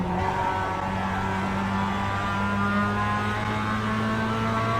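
A Mazda MX-5 race car engine at Laguna Seca in the iRacing game drones steadily at a sustained, fairly loud pitch with no pause.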